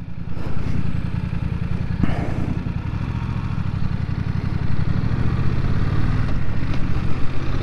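A BMW F900R motorcycle engine, restricted to 47.5 horsepower, runs steadily at close range while riding in sport mode, a continuous low rumble that rises slightly toward the end, with a few clattering knocks along the way.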